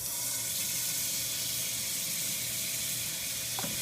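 Six tablespoons of butter melt and sizzle in a pan for a roux, a loud, continuous hiss close by that holds steady throughout with no talking.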